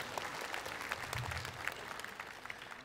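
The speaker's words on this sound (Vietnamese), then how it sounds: "Xin dành tràng pháo tay cho đạo diễn Lê Trung Cang cùng với Ciclo Pictures" Applause from a live-show audience greeting director Lê Trung Cang at a concert: a steady, fairly soft wash of many hands clapping, continuous and evenly textured throughout, with no voice over it.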